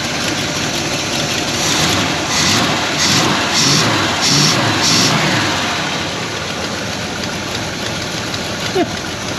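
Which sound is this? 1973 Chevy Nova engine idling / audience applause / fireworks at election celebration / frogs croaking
1973 Chevy Nova engine idling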